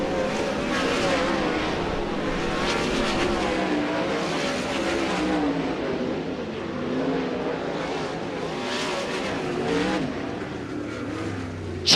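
World of Outlaws sprint cars roar through race-ready hot laps at Angell Park Speedway, a loud, unbroken engine drone that swells and fades slightly as cars pass.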